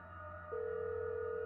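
A cell phone's steady calling tone comes on and holds, faint and thin over a low background hum.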